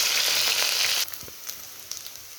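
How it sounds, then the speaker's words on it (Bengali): Ginger garlic paste dropped into browned oil in a pan, a loud bright sizzle that abruptly drops after a second into a quieter, crackling fry with faint stirring taps. "আমার আদা রসুনের পেস্টটা দিয়ে দেব। দিয়ে একটু ভেজে নেব।"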